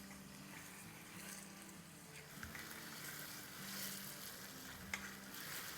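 Steady sizzling and frying of chilled mutton pieces on high heat in a pot, with occasional stirring scrapes and pops, close and continuous with no talk.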